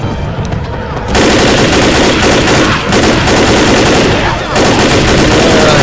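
Rapid pistol fire in the Xbox 360 game Left 4 Dead, loud and dense bursts of shots packed tightly together with brief gaps, close and overwhelming.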